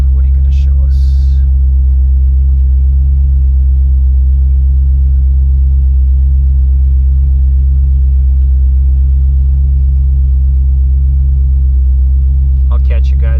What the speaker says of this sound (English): Cold start, 5 degrees Celsius.